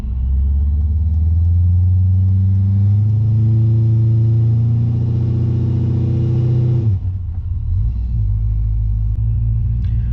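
Holden Monaro engine revving hard against a new torque converter during a stall test, a loud low rumble rising steadily in pitch for about seven seconds, then cutting back abruptly to a deep idle.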